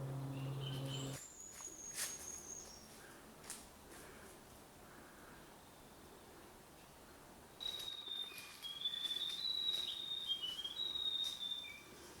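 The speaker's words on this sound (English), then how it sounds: "It's a grey warbler." A grey warbler sings in native forest with rata vines, thin high wavering trills heard faintly in two spells with quiet between, over soft rustling and distant insects.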